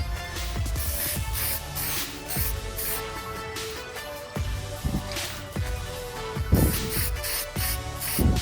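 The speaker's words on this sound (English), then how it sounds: "I'm gonna spray it again." Repeated hissing bursts from a spray can painting a Nissan 300ZX Z32 rear brake caliper, short pulses with brief gaps, close by, over steady background noise.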